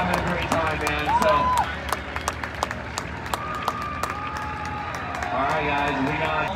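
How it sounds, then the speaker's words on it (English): Crowd at a spectator drag racing event claps and cheers for two drivers, a broad outdoor wash of applause with scattered sharp claps and voices mixed in, steady and fairly loud throughout. "Round of applause for these two drivers."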